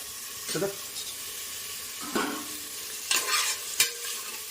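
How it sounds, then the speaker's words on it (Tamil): A spoon stirs ginger garlic paste with tomatoes frying in a pot, a few soft scraping strokes over a continuous sizzle, close up and moderately quiet. "அது அப்படியே ஒரு கிண்டு கிண்டதுக்கு அப்புறமா நம்ம தக்காளியை போட்டுவோம்"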